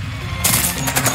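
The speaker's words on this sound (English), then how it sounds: "Machine gun." Machine gun firing in the audio game Blood Shed, a sudden burst of rapid loud shots that cuts in over a dense background rumble and keeps going to the end.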